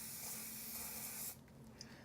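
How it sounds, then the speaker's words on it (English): A short, close hiss of cooking spray is applied over the top of a sandwich, ending abruptly after about a second, with quiet kitchen sounds after. "I am going to put a little spray on the top for when we turn it over"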